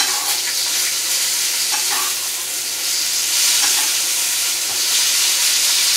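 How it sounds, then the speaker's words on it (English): Filet mignon steak sizzles loudly and steadily in a pan with butter, a constant bright hiss with occasional pops, close up and without talking. "this steak is just sizzling away"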